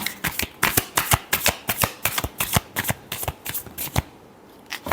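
Tarot cards riffle and snap in a quick run of about a dozen crisp shuffles, close and loud, with no talking over them.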